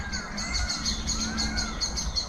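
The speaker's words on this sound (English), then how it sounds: "Birds going crazy." Several birds call repeatedly in a lively, overlapping chorus, steady and moderately loud, with no talking.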